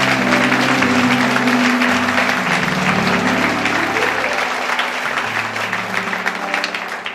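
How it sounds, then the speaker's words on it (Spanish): A church congregation applauding during a sermon, loud sustained clapping from many people filling the hall, with low murmuring and a held tone underneath that gradually shifts. "¿Cuánto puede un aplauso a Dios por eso?"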